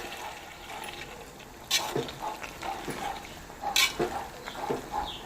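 Mutton being stirred in a cooking pan in a village-style Tamil kitchen, with scraping spoon strokes and soft sizzling of oil, a few louder clatters standing out over a steady frying hiss.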